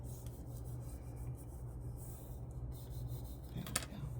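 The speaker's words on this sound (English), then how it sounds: "I'm going to take my bone folder and rub that glue in really," Bone folder rubbing glue into paper for a memory box craft project, a steady soft scraping rasp that continues throughout at close range, with a brief sharper scrape near the end.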